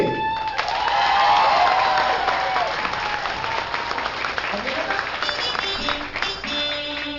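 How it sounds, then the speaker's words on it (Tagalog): Audience applause and some cheering at a live Filipino comedy show, dense clapping that swells early and then thins out as voices start to rise over it. "Palakpakan natin."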